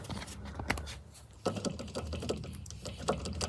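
A worn alternator pulley on a 2013 Kia Ceed 1.6 CRDi diesel engine gives off an irregular, faint ticking and clattering rattle, close up with no talk.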